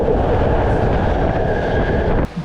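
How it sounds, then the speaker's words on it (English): A Sydney Metro driverless Alstom Metropolis train runs with a steady, loud rumbling roar close by, ending abruptly in a sudden drop near the end. "Sydney Metro is Australia's first fully accessible driverless train network"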